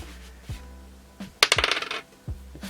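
A single die is rolled onto a hard surface and clatters in a quick burst of bouncing, rattling taps. A few soft knocks come before and after it, close and fairly quiet.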